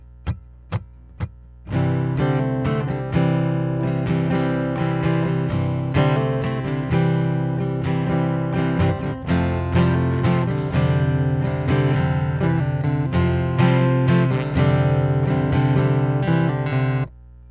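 Acoustic guitar playing a strummed part from a song, starting with a few sharp single strums, then steady rhythmic chord strumming, close and loud with no talk.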